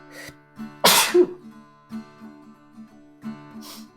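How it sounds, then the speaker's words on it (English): A single loud, close sneeze from a person with springtime allergies bursts out during a quiet home sketching session, followed by a softer catch of breath over faint steady background tones. "I might have to sneeze."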